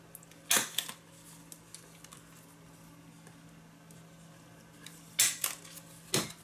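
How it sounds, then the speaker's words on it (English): A few sharp mechanical clacks, two close pairs separated by a quiet pause, crisp snaps like a stapler punching through paper in a quiet room. "I'm going to use a stapler"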